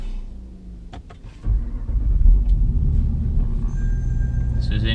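A 2020 Jeep Grand Cherokee with a 5.7 Hemi, ProCharger supercharger, long tube headers, high flow cats and Corsa sport exhaust cranks and fires, its engine catching with a surge into a deep, steady idle rumble heard up close.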